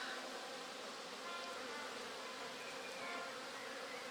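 Honey bees from an expanding colony in early summer hum steadily and densely while a hive box with brood frames stands open for inspection. The buzzing is continuous and close, with no talk.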